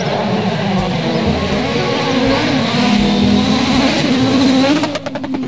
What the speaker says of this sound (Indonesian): Wah, ada mobil balap.